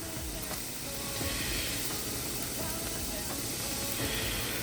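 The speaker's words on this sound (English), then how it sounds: "So you just put the bicarb in the actual boat. It will fizz up." Bicarbonate of soda fizzes in boiling water with aluminium foil, a steady, close hissing and crackling sizzle with faint ticking pops throughout.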